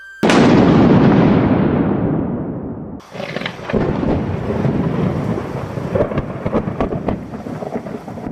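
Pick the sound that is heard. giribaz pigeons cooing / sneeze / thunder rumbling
thunder rumbling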